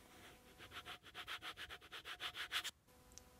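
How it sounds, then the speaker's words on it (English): A burn-in stick wood fill is scraped down and levelled on furniture, making about fifteen rhythmic rasping strokes, close and quiet, before stopping abruptly. "But what you do is scrape it down and level it off."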